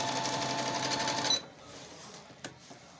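An embroidery sewing machine runs fast and steady while stitching a design, a dense mechanical whir that stops abruptly partway through, leaving quiet room noise with a faint click.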